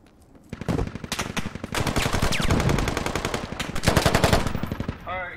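Machine gun nest in the video game Squad firing long sustained bursts of rapid automatic fire, loud and close, with a few breaks and a short pause near the end, overlaid with battlefield gunfire.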